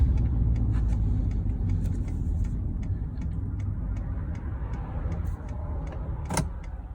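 A 2019 Ford F-150 with a 3.3 V6, towing up a steep hill in first gear, gives a steady low engine rumble close by and loud throughout, with light ticking on top and a short sharp click near the end.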